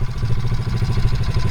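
A custom-restored Honda XR50 motorcycle engine idles steadily close by, a low, even mechanical putter with a light clatter and no revving.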